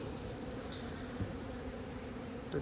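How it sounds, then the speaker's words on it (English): Honeybees hum around a hive on the first sunny day of a wet spring, a faint, steady buzzing drone with no voices over it. "these bees are excited"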